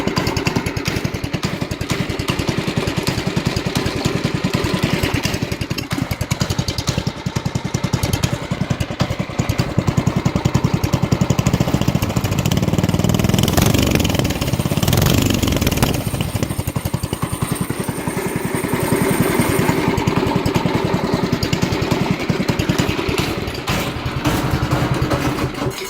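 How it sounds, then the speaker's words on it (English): Predator 212cc go-kart engine fitted with a custom exhaust, running at a lowered idle while warming up: a steady, loud, close mechanical putter that continues throughout with no talking. "Predator 212cc exhaust mod, custom exhaust."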